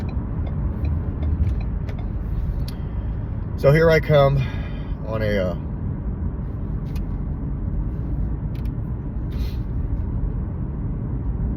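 Steady rumble of cars moving along a road throughout, with someone briefly speaking over the traffic noise.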